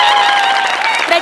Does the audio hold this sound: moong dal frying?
no